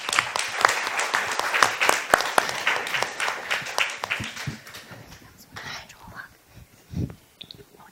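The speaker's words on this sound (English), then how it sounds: "Please give her a warm, warm round of applause" An audience breaks into dense, close applause to welcome someone speaker, a transformational life coach. The clapping fades over several seconds and gives way to a few scattered claps and faint voices.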